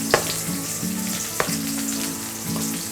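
Onion pieces fry in a pan for a Kerala jackfruit erissery, giving a loud continuous sizzle with a few sharp clinks of a spoon against the pan.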